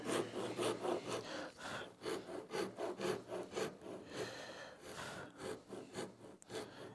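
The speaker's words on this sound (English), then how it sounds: "I'm watching two lines as I saw here" A hand saw cuts a half-blind dovetail in wood in steady back-and-forth strokes, each rasping pass rising and falling in a regular rhythm, close and fairly loud with no talk.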